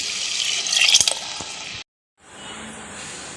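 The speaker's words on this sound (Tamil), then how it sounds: "இப்போ இந்த மிளகாத்தூளும் புளி கரைசலும் ஊற்றிடலாம்." Tamarind water mixed with chili powder pours into a cooking pot for a fish curry, a splashing, gurgling stream for nearly two seconds before cutting off, followed by quiet kitchen background.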